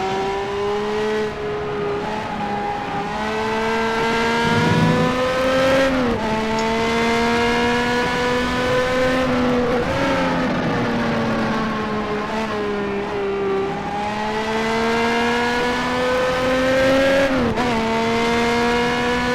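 Formula One race car lapping a track in a racing video game, engine note loud and continuous throughout, rising through each gear with sharp drops at every upshift, alone with no talk.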